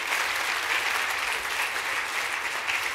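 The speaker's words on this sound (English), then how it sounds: "I always get the same response, a lot of hand claps" A conference audience at a technology summit bursts into sustained applause, a dense, even wash of many hands clapping with no pauses throughout.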